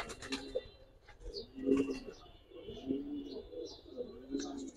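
Giribaz pigeons cooing in a loft, a pair giving repeated low, rounded coos in a steady rhythm close by, with faint chirps and rustling in the background.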